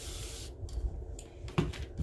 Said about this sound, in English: I could spray water on this.